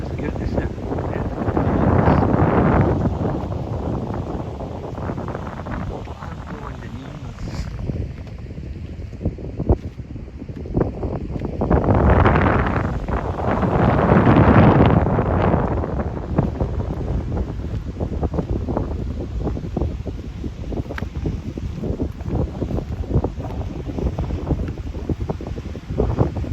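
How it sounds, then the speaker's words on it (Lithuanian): Strong coastal wind on Fuerteventura roars and buffets the microphone in heavy gusts that swell and ease over nearly half a minute, with loud rumbling blasts and surf-like rushing throughout. "Man kaip šniokščia vėjas, girdisi."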